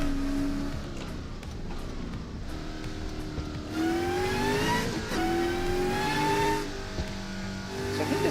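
A turbocharged car engine revs and pulls through several gears, its tone climbing steadily then dropping at each shift, loud and continuous, with a whooshing intake character over road noise.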